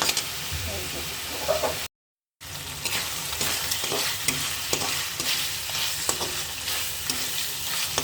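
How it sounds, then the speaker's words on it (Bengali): Rohu fish head stir-fries in a pan, with a continuous loud sizzle and repeated scraping, clacking stirs throughout and a short silent break near the start. "এই যে মাথা মাথা কষাচ্ছি শাক দিয়ে রান্না করবো"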